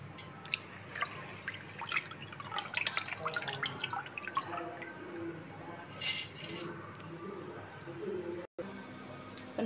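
Water being scooped and poured in a kitchen for cooking rice, with light drips and splashes scattered through the clip, fairly faint and close.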